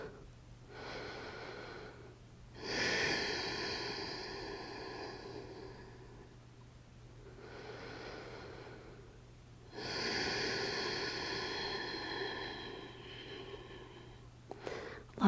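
Slow, deep breaths during a yoga twist pose, close and soft: two long airy exhalations, each a few seconds long, separated by quieter inhales.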